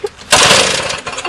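An old classic car engine doused with gas kicks over once, a short loud sputtering burst of combustion that quickly dies back to a rough, uneven rumble.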